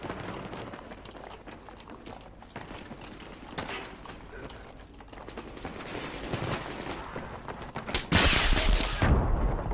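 Gunfire in Battlefield 3 on the Ziba Tower map during a Domination match, with scattered shots and bursts under ongoing game noise, ending in a loud close blast near the end.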